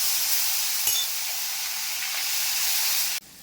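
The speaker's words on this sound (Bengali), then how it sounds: "আর এর মধ্যে দিয়ে দেবো আদা রসুন পেস্ট।" Ginger garlic paste hitting hot oil used for frying cauliflower, along with whole garam masala, bursts into a loud, steady hiss that is cut off abruptly just before the end.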